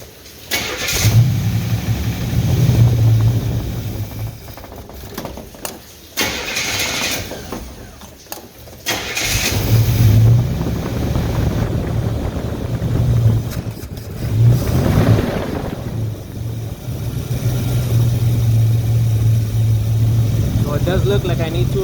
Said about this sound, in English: So I'm gonna go ahead and start it up.